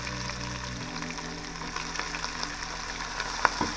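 Sliced onions frying in oil with bay leaf and cardamom for chicken fry biryani: steady moderate sizzle with a low hum in the background and a couple of faint stirring taps near the end, no voices.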